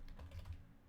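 Keys clatter on a computer keyboard in a brief, close burst of soft taps while someone searches within a game-development editor.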